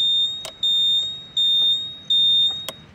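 Steady, sharp electronic ticking beeps from the turn indicator of a TVS iQube electric scooter, repeating in a regular rhythm at close range with no talk.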